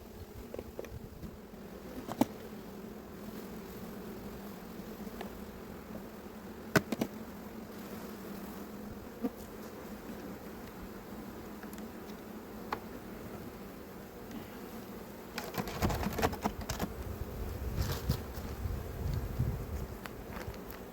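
Honey bees in an opened hive during a mite check give a steady low hum close to the mic, with a few soft clicks. Louder rustling and handling noise swells near the end.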